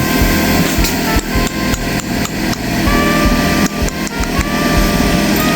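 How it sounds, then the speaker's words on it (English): Nails being hammered into an artificial turf seam during an outdoor turf installation, a loud, close series of sharp metallic blows in an uneven rhythm over a constant background hum. "this is what happens when you nail it"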